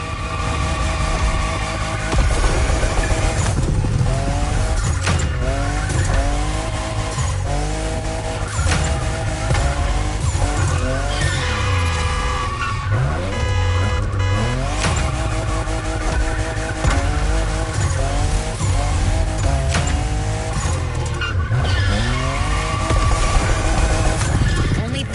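A Toyota Supra, the fifth-generation model, races in The Crew with loud continuous engine roar, shifting revs and repeated tire squeals through turns, backed by game music.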